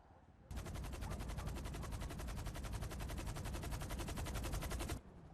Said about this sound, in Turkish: Bütün bölgeye silah sesleri hakim oldu